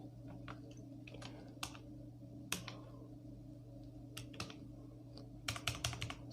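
Someone types HTML code in Notepad on a computer keyboard: scattered, irregular key clicks come in short bursts over a steady low hum, close and fairly quiet, with no voices.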